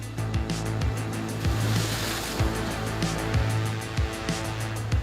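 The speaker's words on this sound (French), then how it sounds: "À marée haute, les vagues, portées par le vent, explosent sur la digue." Equinox high-tide waves, driven by wind, crash against a seawall in Brittany, giving a steady loud wash of surf with repeated heavy thumps of water hitting the wall.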